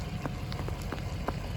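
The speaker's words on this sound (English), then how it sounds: "it's sleeting" Sleet and freezing rain patter continuously as soft ticking and crackling, close and fairly faint, with scattered sharper taps standing out from the steady hiss.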